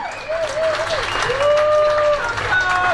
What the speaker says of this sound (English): Can we have a huge cheer for both teams on the field?